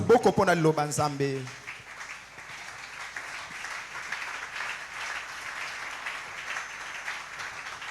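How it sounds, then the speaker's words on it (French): Church congregation applauding together after a reading, a steady wash of clapping that follows a brief sung or spoken phrase at the start and then continues evenly at moderate volume. "Nous pouvons nous rasseoir et acclamer la parole de Dieu."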